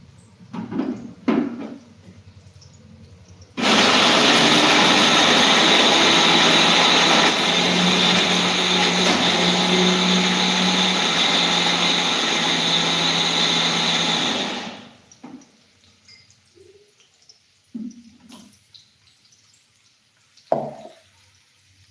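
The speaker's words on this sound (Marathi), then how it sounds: "तर चला हे सुद्धा मिक्सरला फिरवून घेते" Kitchen mixer grinder grinding chivda ingredients: one loud, steady whirring roar lasting about eleven seconds, with quiet clinks and handling before and after.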